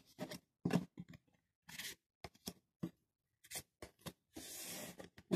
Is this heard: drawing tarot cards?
yes